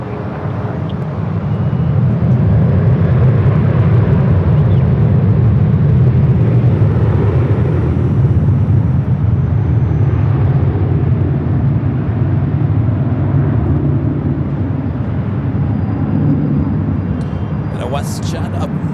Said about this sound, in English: This is Alaska Airlines 1306 coming in from Seattle on the